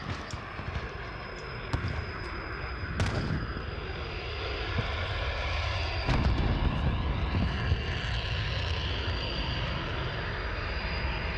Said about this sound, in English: VTOL fired shots